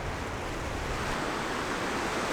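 Sea surf washing up a pebble beach toward St Bees Head at sunset, a steady, continuous broadband rush of waves with wind noise, close and fairly loud, with no voices.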